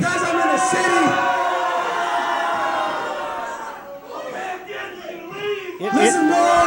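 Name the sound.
wrestling crowd shouting over a wrestler's talk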